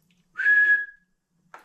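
A person whistles a single clear, sustained note lasting about half a second, close and loud in a quiet room, followed by a short breathy sound.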